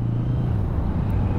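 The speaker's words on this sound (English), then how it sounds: "It's pretty quiet, the muffler, for nearly 1000cc inline four." A 2023 Kawasaki Z900 nearly 1000cc inline-four motorcycle runs with a fairly quiet muffler, giving a steady low engine drone and hum that holds even and close throughout, with no voices.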